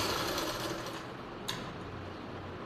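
Sewing machine stitching a baby frock, a quiet rapid whirring run of stitches that slows and fades, with a brief click partway through and the motor starting again at the end.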